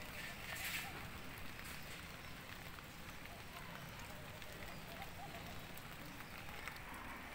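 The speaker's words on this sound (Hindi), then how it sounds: "और देखिए बारिश भी हो रही है।" Rain falls outdoors in a home garden among potted flowering plants such as bougainvillea. A continuous, even hiss of drops holds steady throughout, with a voice faintly present beneath it.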